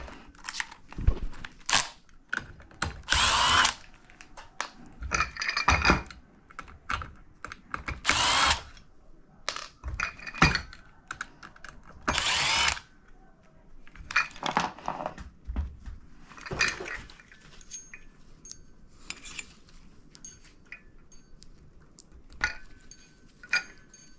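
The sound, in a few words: power drill removing ceiling fan screws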